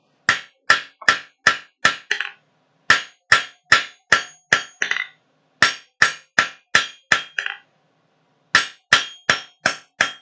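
A hammer rings against metal on an anvil in a workshop, striking in quick bursts of five or six sharp, bright blows separated by short pauses, loud and close with no talk.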